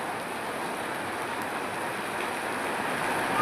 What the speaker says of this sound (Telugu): వర్షం పడుతుంది, చాలా పడుతుంది